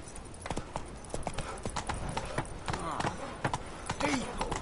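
A horse's hooves clip-clop at a brisk trot in a video game, a steady close rhythm of hoof strikes that carries on under spoken urging and shouts.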